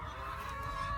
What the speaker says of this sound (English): Wow, chicken right there.